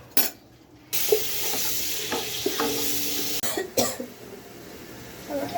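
Spices hit hot oil in a cooking pot, and a loud, sudden sizzle bursts in after a short quiet. A steady frying hiss follows with stirring clatters, a brief drop and a fresh surge of sizzling.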